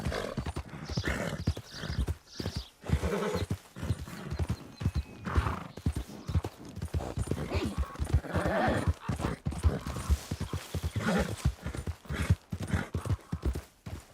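A horse in Red Dead Redemption 2 clip-clops along with steady, rapid hoofbeats and gives a whinnying neigh, close and loud throughout.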